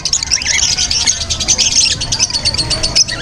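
Pet birds at a pet market chirp and tweet in quick, high, overlapping calls that run throughout, with faint low background noise underneath.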